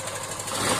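Yamaha Byson motorcycle engine running with fresh oil, after a clutch repair for lost power, in a brief steady idle with a fine rapid pulsing rumble, close and even.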